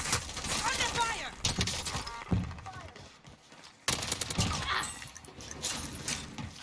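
Bursts of rapid gunfire ring out in a Call of Duty Warzone match on Rebirth Island, with dense, crackling volleys and shattering impacts broken by short quiet gaps.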